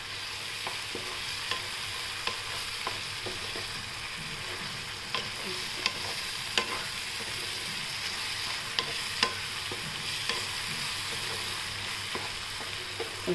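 Rajma masala sautéing in oil, a steady close hiss of frying with a spoon scraping and clinking against the pan at irregular intervals, no talking.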